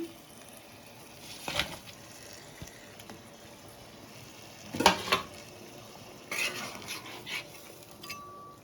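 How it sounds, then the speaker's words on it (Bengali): Tangra fish simmering in a pan with water, stirred a few times: scattered faint scrapes and clinks of a utensil against the pan over a quiet background with a low bubbling hiss. "মাছটা একটু নেড়ে দিলাম।"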